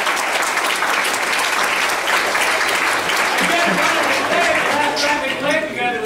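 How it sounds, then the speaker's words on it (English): Sustained applause fills the room after a performance by a college highland band and dancers, a dense steady clapping from a crowd with a voice speaking over it near the end. "Come on, big round of applause"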